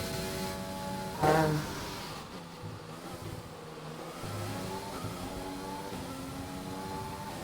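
An F1 2020 racing car accelerates through a Canadian Grand Prix lap in the video game, its engine note climbing steadily through the gears after a sharp burst, loud and continuous with no talk over it.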